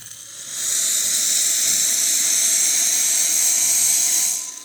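A strong, steady hissing rush from a Rocket Appartamento espresso machine as hot water streams out, rising at the start and tapering off at the end.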